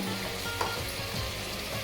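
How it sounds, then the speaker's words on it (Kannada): Chicken pieces frying in hot oil with salt in a home kitchen, giving a steady, dense sizzle that runs unbroken and fairly loud throughout, with no voices. "ಚಿಕನ್ ಎಣ್ಣೆಲಿ ಫ್ರೈ ಆಗ್ತಾ ಇರಲಿ"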